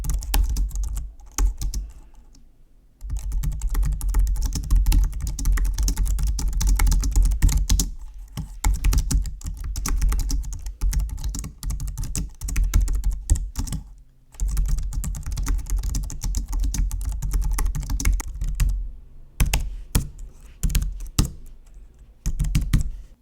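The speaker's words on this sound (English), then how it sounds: "here's the audio or video of what it sounds like when I type on the K580 keyboard with this microphone right above" Typing on a Logitech K580 slim multi-device keyboard, Chrome OS Edition, recorded close with the microphone just above it: rapid, continuous key clatter broken by a few brief pauses.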